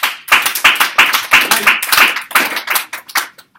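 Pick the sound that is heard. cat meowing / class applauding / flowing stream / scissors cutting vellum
class applauding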